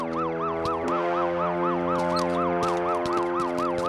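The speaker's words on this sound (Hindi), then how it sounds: "एम्बुलेंस आई है" An arriving ambulance siren wails loudly and continuously, its rapid rising-and-falling tone repeating steadily throughout, with no voices.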